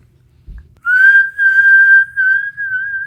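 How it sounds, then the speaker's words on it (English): A person whistles a single clear, steady tone in a quiet room, sustained in three close, loud phrases with brief breaths between them, preceded by a soft bump. "Can you guys whistle in or out?"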